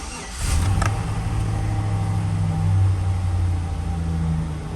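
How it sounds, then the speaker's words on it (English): A 2005 Chevy Silverado truck engine cranks briefly and fires up after an oil pickup tube O-ring replacement, then settles into a loud, steady low rumbling idle close by. "we're gonna fire the truck up,"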